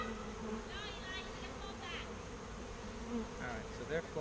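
Honey bees buzz steadily and close during a beehive inspection, a dense continuous drone with individual insects sweeping past, brief rustles breaking through.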